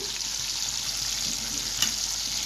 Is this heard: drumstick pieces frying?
yes